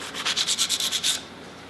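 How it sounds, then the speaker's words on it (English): A brass tube rubbed with 60 grit sandpaper, about nine quick, even back-and-forth scrapes, close and rasping, then stopping into quiet background hiss. "I'm using 60 grit sandpaper, and it just kind of scores it up a little bit."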